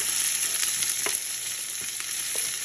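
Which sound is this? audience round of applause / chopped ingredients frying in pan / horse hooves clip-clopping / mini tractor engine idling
chopped ingredients frying in pan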